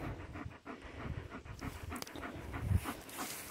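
A long-haired German Shepherd dog pants close by in steady rhythmic breaths, outdoors during a mushroom-picking walk in the woods.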